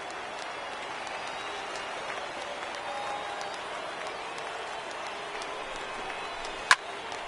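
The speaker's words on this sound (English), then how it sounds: "Now what's left of this crowd this afternoon gets to their feet." Baseball crowd in MLB The Show 19 giving a thin, sustained cheer and applause under broadcast commentary, with a sharp click near the end.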